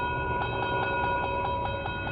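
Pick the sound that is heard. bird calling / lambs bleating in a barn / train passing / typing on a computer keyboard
train passing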